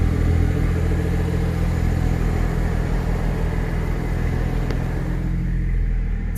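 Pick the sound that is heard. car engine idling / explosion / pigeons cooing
car engine idling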